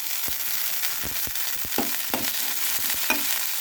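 Carrot and potato mash frying in a pan for oats cutlets, with a steady close sizzle and scattered sharp spoon scrapes and knocks against the pan, no voices.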